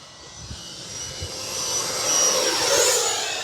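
An FMS Futura 64mm electric ducted-fan model jet flies past with a steady high-pitched whine and rushing roar that swells louder as it approaches, alone without talk.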